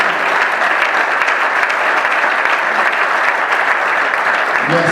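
An audience applauds the prophet Jimmy Tabandite at an assembly. Dense, steady clapping runs throughout, loud and close, with no break.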